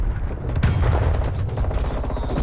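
Rapid MP5 submachine gun bursts in a shooter video game, loud and close, with dense repeated shots filling the whole moment.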